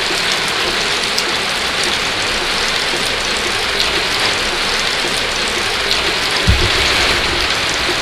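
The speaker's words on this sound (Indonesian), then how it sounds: "Tapi ngomong-ngomong ini hujan, udah belum berhenti. Derasnya nih." Heavy rain pours down in a dense, steady hiss of drops on surfaces, constant and loud from start to finish, with one dull thump near the end.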